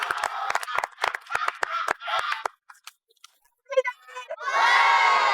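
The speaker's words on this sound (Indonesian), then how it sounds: "Tepuk tangan." A studio audience at an Indonesian Lenong comedy show erupts near the end into loud, dense applause mixed with cheering and children shouting, after choppy bursts of voices and a brief lull.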